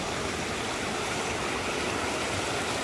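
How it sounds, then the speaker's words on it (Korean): Flowing water at Plitvice Lakes National Park in Croatia makes a steady, dense rushing hiss, like a stream or small cascade, continuous and even throughout with no voices. "물소리."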